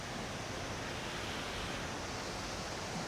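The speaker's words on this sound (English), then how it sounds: "This is called something like the Alexupita waterfalls." Waterfalls at Kuldiga, Latvia, make a steady, dense rushing roar that stays even throughout, with no voices or other sounds.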